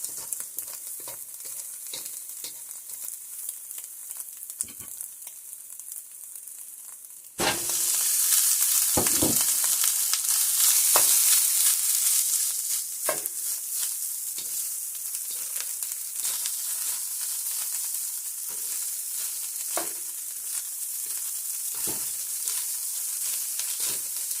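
White rice hitting a hot pan with vegetables for egg fried rice, a quiet sizzle jumping to a loud, bright crackle that settles into steady frying, broken by scraping stirs and utensil knocks, close up with no talk.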